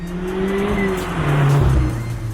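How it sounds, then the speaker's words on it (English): A Mazda Miata ND2 fitted with a Grady SP exhaust revs and accelerates, its exhaust note rising and falling in a loud, close burst lasting a couple of seconds. "We all want to hear our exhaust."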